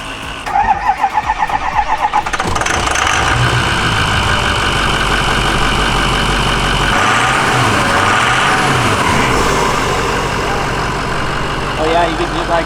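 A Ford 6.0 Powerstroke diesel with a compound turbo setup cranks and fires, then settles into a loud, steady, close-up idle with a rough diesel clatter and turbo whine, briefly revving near the end.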